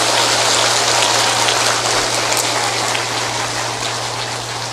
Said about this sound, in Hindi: तो ताली बजा के दिखाओ दमदारी से।